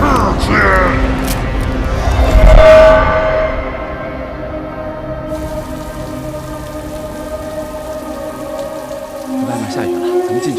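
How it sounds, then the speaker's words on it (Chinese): Steady rain falls outdoors, a dense, even hiss that runs throughout, slightly heavier in the first seconds and easing after. "外面下雨了，咱们进去吧。"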